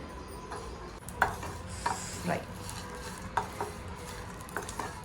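Prawns fry in a pan, a faint, low sizzle with scattered clinks of a utensil stirring against the pan.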